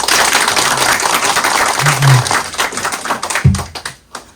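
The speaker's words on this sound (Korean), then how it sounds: "큰 박수와 함께 시작하도록 하겠습니다." A seated audience at a corporate talk in Korea claps in brief, scattered bursts with a few louder thumps near the microphone, the applause thinning out and stopping before the end.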